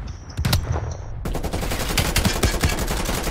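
Gunfire in the video game Call of Duty: Black Ops Cold War, with rapid automatic bursts and dense overlapping shots that rattle continuously and loudly through the whole stretch.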